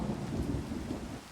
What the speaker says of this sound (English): turning the rain off